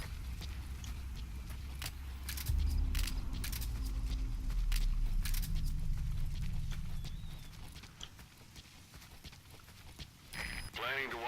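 Horse hooves clip-clopping in the Metal Gear Solid V video game, a steady trotting rhythm of game sound effects mixed with voices and ambient noise, fading somewhat toward the end.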